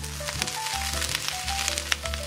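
Bean sprouts tossed into a hot wok over high heat, with steady close sizzling and crackling heard under a layered tonal background.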